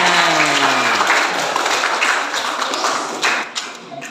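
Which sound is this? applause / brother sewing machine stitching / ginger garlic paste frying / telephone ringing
applause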